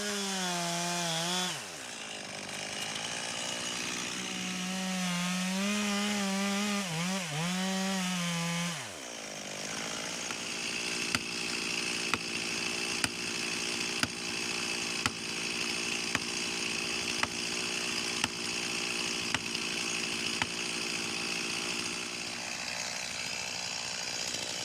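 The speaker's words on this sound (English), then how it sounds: "I think it'll help on these last couple trees just having a bigger chainsaw" A chainsaw felling trees along an old fence row roars continuously, its pitch rising and falling as the engine revs, then settles into a steady loud cutting drone with sharp clicks and crackles.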